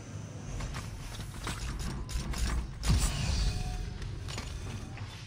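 A door unlocks in a video game, a mechanical sequence of creaks, ratcheting clicks and grinding gear sounds over a steady ambient bed, with a heavier clunk midway.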